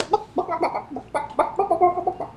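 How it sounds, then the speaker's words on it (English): Chickens cluck close by in quick, overlapping bursts that keep up a constant, busy chatter. "from the other side of the fence, you hear just constant clucking"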